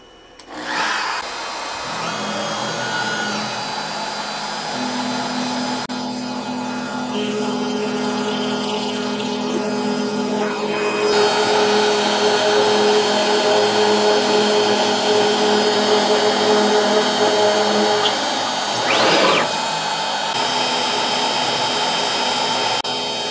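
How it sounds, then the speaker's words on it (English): A CNC router drilling two mounting holes with a 1/8 inch downcut end mill, a loud continuous machine whine and spindle drone with shifting tones running the whole time, no voices. "we are drilling two mounting holes"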